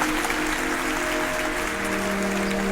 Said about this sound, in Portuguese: Você pode dar um forte aplauso a Jesus?